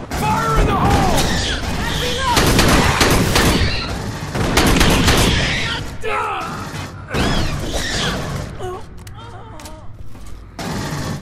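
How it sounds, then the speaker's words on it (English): Gunfire bursts and a heavy explosion from an Aliens Colonial Marines multiplayer match, dense and loud, rattling in overlapping volleys with booming hits and creature shrieks for several seconds. "Fire in the hole!"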